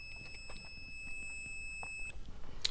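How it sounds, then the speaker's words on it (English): A multimeter on a continuity test gives a steady electronic beep for about two seconds while its leads touch a circuit, thin and fairly faint over low room noise, followed by a small click. "And it'll beep, just like this."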